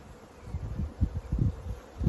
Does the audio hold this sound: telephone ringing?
no